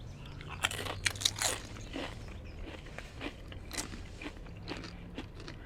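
A crunchy tortilla chip topped with fresh homemade cherry salsa is bitten and chewed up close, sharp crackling crunches at first and then steady chewing, with no talking.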